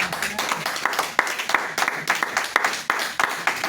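A church congregation claps for the word of the Lord, a close, moderately loud run of clapping with distinct, uneven hand strikes that continues for a few seconds.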